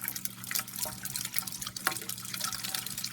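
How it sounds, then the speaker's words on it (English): Water trickles and splashes steadily down through an aeroponic vertical garden tower, a close, continuous patter of dripping and flowing with no talking. "the water goes down and aerates"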